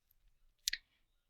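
Computer mouse click selecting the measure tool in ArcGIS, a single sharp, close double-tick click standing alone in near silence.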